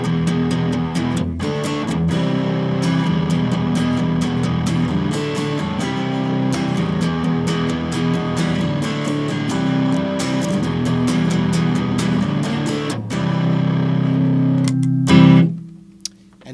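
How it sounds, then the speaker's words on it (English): A Fender electric guitar played through a distortion pedal with heavy fuzz, strummed chords ringing steadily, ending with a brief crackle. "I turned a distortion pedal on, and you can get some fuzzy sounds"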